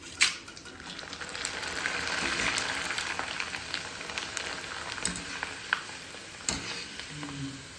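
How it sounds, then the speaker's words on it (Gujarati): Corn poha flakes frying in hot oil for chevdo, making a soft, steady sizzle with occasional stirring clicks and scrapes, close by and without talk. "હવે આપણે આવી રીતના બધા મકાઈના પૌવા છે એ તળી લેશું"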